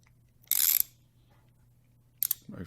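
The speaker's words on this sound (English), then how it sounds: "So I just used a ratchet on this" A ratchet with an extension working on small rusted 5.5 mm metal bolts, heard as two short bursts of close, bright clicking separated by a quiet gap.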